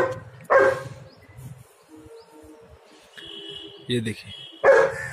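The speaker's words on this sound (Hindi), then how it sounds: "ये उसको भौंक रही है" A German shepherd puppy gives a few sharp barks, with short yips in between, while someone speaks nearby.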